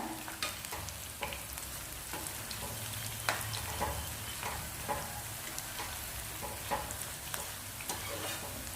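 Drumstick leaf and ragi flour pakoda fry in oil over a low flame, giving a steady close sizzle with scattered pops and light stirring clicks throughout, with no voices.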